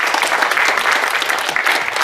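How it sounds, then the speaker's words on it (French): Loud, dense applause from an audience thanking volunteers at a Paris tournament, continuous close clapping for about two seconds. "on peut les applaudir s'il vous plaît"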